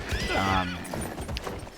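A horse in Battlefield 1 lets out a loud, close, shuddering whinny, followed by several thudding hoofbeats and clatter as it moves on.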